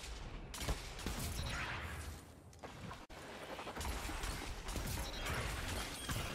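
Rapid, loud gunfire in Destiny 2 fills the whole stretch, with sharp bursts and a brief drop in the middle, no one speaking.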